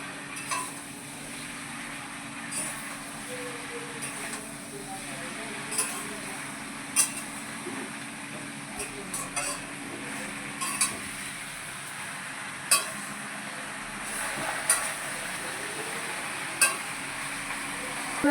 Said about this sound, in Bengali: দিয়ে লাউ শাকটা দিয়ে আমি নেড়ে চেড়ে নিলাম